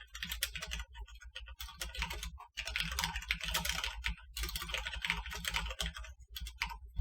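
Fingers type steadily on a computer keyboard, with dense, rapid key clicks in bursts separated by brief pauses, close and fairly loud with no voices.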